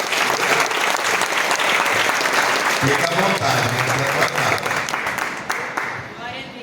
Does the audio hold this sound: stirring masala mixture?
no